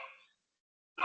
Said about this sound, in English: And maybe you can hear my dog barking.